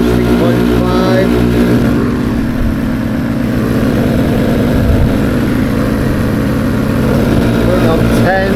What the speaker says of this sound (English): it's just moved over to the first stage of high pressure pumping